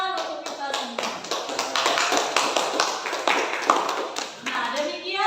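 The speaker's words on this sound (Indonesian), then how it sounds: "Tepuk tangan untuk kita semua." Classroom applause at the close of a lesson, a dense burst of many hands clapping for about five seconds, with children's voices mixed in.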